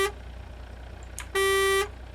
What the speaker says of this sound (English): even though we didn't put any air horns on, if you have your air horn button mapped, it still does a little horn